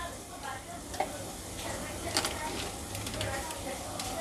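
Garam masala and turmeric being stirred into sizzling moong dal khichdi, a continuous close sizzle with spoon scrapes and a couple of light clinks against the pot.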